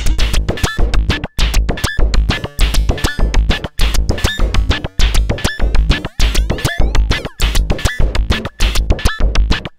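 A dense, driving Moog DFAM synthesizer sequence through an Endorphin.es Ghost Eurorack effects module, with rapid percussive hits and buzzy tones. It pulses in a steady rhythm and is loud and continuous.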